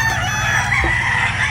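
Boston Black chickens on a farm with a rooster crowing close by, a loud sustained call over a busy flock with clucking in the background.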